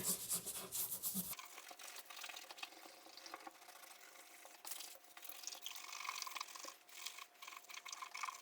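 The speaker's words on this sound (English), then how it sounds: "I'm just going to take a scuff pad and kind of scuff this up a little bit" A scuff pad rubs over a Jeep hood hinge, making a steady, close, broadband scrubbing hiss that continues for several seconds after a brief louder start.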